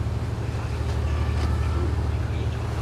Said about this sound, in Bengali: এই যেখানে একটা বোট আসতেছে, অনেক প্যাসেঞ্জার